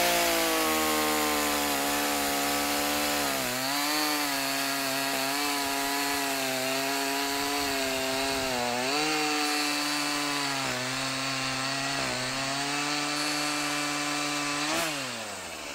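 A commercial-grade Echo gas chainsaw runs steadily at close range, its engine note rising and falling through several revs and easing back to idle, loud and alone with no talking.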